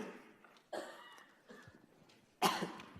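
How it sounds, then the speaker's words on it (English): A few coughs in a quiet room, spaced apart, the last one the loudest and sharpest. "my amplified coughs are going out through here"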